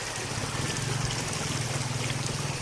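Clear water of a river near the mountains flowing steadily, a continuous close rushing trickle with a low burbling undertone and no talking.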